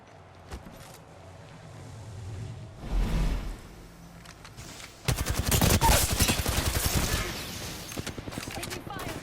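Gunfire in the Apex Legends video game, a long rapid stream of shots near the end, loud and close, after scattered single cracks and a muffled thump, with a voice talking in the background.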